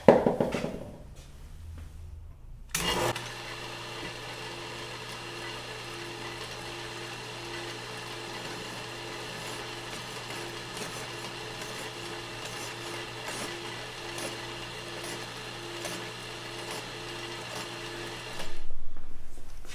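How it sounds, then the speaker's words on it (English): A Craftsman 109 lathe runs with a steady, humming motor tone while slowly cutting a cast iron pipe flange, starting after a brief thump and holding evenly for about fifteen seconds before stopping. "I'm going to attempt to make a little cut on this cast iron pipe flange"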